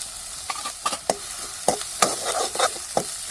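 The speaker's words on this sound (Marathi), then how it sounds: "मसाला चांगला परतून घेतला का त्याच्यानंतर आपल्याला त्याच्यामध्ये हळद आणि काळा मसाला आहे आपला घरगुती तो टाकायचा आहे" Turmeric and homemade black masala fry in a pan for amti, a steady sizzle broken by sharp scrapes and clinks of a spoon stirring close by.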